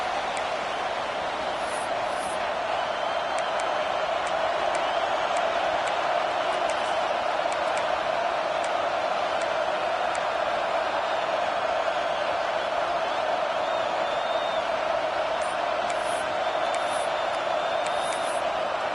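Stadium crowd at a college football game with Boise State playing, a continuous roaring wash of many voices at steady high level, with faint whoops and whistles poking through, distant and unbroken for the whole stretch.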